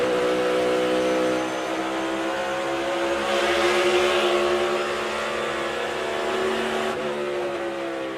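A damaged NASCAR Cup car with its right front tire shredded drives on, its engine droning loud and steady with a strong harmonic hum. Further engine roar rises and falls behind it.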